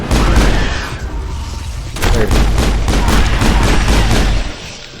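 Garrus fires rapid bursts in Mass Effect, loud and close, the gunfire dropping briefly and then resuming in a dense, rattling volley before tapering off.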